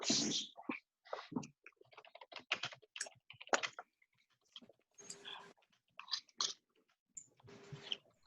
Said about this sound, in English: let me go ahead and type that out for you guys